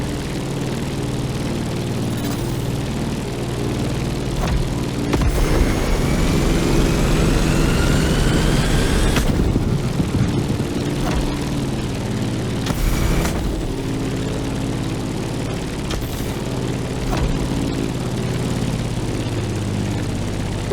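A propeller airplane engine drones steadily in flight over mountains at sunset in The Crew Motorfest, a loud continuous hum with a brief rising whine and a few passing swells.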